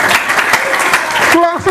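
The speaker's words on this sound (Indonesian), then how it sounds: "Tepuk tangan buat saya." Audience at an Islamic boarding school in Bogor clapping together after a recited poem, a short, dense burst of applause with voices rising over it near the end.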